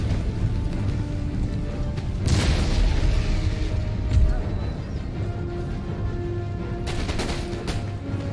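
Artillery and musket fire from the battle game Empire: Total War, a steady rumble of distant volleys with heavier booming impacts around the middle and sharp cracks near the end.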